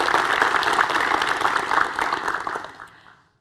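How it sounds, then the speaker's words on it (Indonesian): A studio audience at a televised student-action debate applauds, with dense, lively clapping that holds for about three seconds and then stops abruptly. "Tepuk tangan dulu untuk kita semua."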